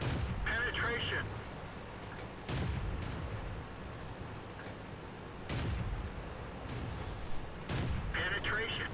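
Tank cannon shots and hits in World of Tanks, several heavy booms spaced a few seconds apart, each with a sharp crack and rumbling tail, amid engine noise and a player speaking between blasts.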